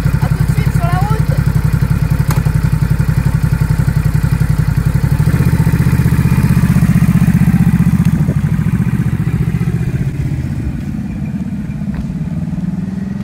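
Ducati Supersport 950 S motorcycle engine running close by, a loud throbbing idle with rapid even firing pulses that swells slightly, then drops to a quieter idle near the end; a voice speaks briefly over it.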